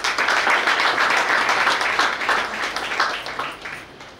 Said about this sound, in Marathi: आणि पुस्तक लेखिका प्रशांती मणगावकर यांच्याकरता जोरदार टाळ्या होऊ दे